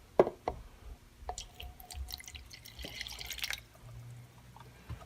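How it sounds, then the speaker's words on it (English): Water drains from a compact dehumidifier's collection tank with a few drips and splashes, then a trickle. It is heard close and alone, with light plastic knocks throughout. "Let me drain it out and we'll see exactly how much water it collected."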